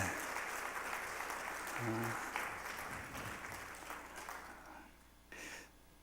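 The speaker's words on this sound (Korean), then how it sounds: "자리에 앉으실 때까지 우리 박수로 격려하시겠습니다" A congregation at a Wednesday church service, a women's mission group's dedication worship, applauds steadily while people take their seats, with voices mixed in. The clapping thins out toward the end.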